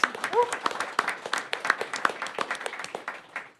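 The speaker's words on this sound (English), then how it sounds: "I think it deserves a round of applause, right?" A crowd at a showcase event claps in a brief round, moderately faint and fairly even, with a little voice sound in the background.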